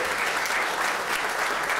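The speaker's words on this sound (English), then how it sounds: "Lots of standing applause for John Sturgeon, one of the invited guests of the governor." A crowd of guests gives John Sturgeon a standing ovation at Governor Dunleavy's 2020 State of the State Address: dense, steady applause filling a large hall without a break.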